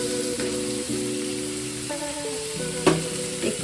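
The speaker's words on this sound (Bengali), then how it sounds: "আমি এগুলো সব দিয়ে দিলাম একসঙ্গে, দিয়ে আমি ভেজে নেব" Chopped green chilli and tomato fry in a pan for an egg tarka, a soft continuous sizzle under background music with sustained tones, and a brief stirring clatter near the end.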